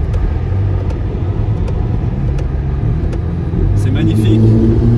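Ferrari Roma engine running close by with a deep steady rumble that swells slightly toward the end, with faint ticks and background noise around it.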